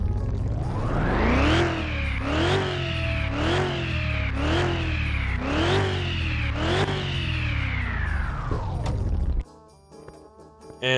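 A PN8 drag car with a supercharger, in Car Mechanic Simulator 2021, revs its engine loud and close in about seven rhythmic rising pulses with a faint supercharger whine on top, then cuts off abruptly into near silence.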